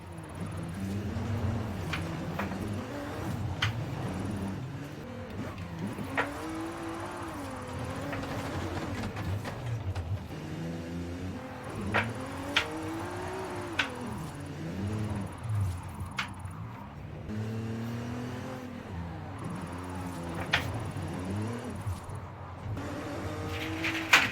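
In Forza Horizon 5, a stock all-wheel-drive car with a VR38 twin-turbo engine revs and drifts through tight corners, its engine note rising and falling in repeated sweeps, with sharp bursts throughout and no talk.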